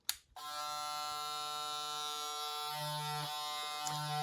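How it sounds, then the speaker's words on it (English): A Steinhart 10000 rpm cordless magnetic pivot hair clipper clicks on and runs with a steady loud electric buzz, its pitch wavering slightly, heard close up and alone. "So let's make a run test of this clipper."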